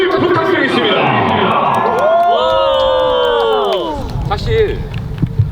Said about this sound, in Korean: 팬여러분들 환영의 박수를 부탁드리겠습니다.